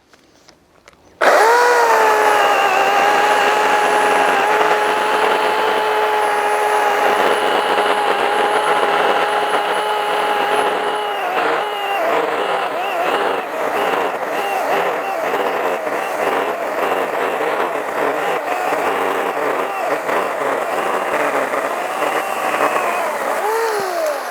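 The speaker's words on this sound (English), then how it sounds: "So let's go start chainsawing." A small Ryobi 18V ONE+ brushless battery chainsaw whines steadily at high pitch, its tone wavering and roughening as it bites into solid gum tree wood, running continuously and close by.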